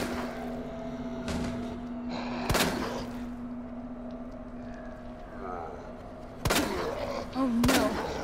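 Loud gunshots from the video game Resident Evil 2, a few sharp separated blasts spaced several seconds apart over a steady low game hum, with a voice groaning faintly in the background.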